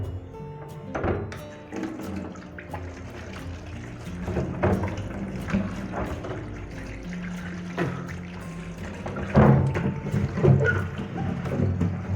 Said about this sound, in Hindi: इसको हम पानी से धो लेते हैं।